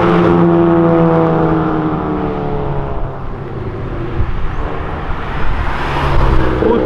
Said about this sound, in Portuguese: o Up deu uma acelerada bem na frente da polícia